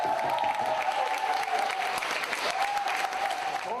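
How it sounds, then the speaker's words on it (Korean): Audience applause greets the entrance of Blake Mycoskie at a Korean social-enterprise event, a dense, steady clapping from a crowd that carries on throughout with a faint tonal hum underneath. "박수!"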